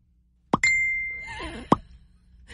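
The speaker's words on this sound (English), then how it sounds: "That is the messenger itself." Messenger app notification on a phone: two crisp popping plops about a second apart, joined by a bright ringing chime, close and clear against near silence.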